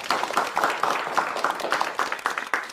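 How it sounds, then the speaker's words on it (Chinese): A group applauds to welcome a new human resources manager at a company gathering, with steady, dense clapping that rises and falls in rhythmic waves for the whole stretch, fairly close and without talk. "让我们用掌声欢迎黄女士"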